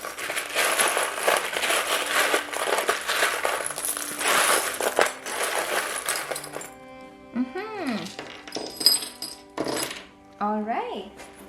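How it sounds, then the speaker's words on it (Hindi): Small charms shuffled and clinking together in a loose jangling run, followed by a few brighter metallic chinks, close and fairly loud, with a voice speaking over part of it. "आपके चार्म्स शफल कर लेते हैं"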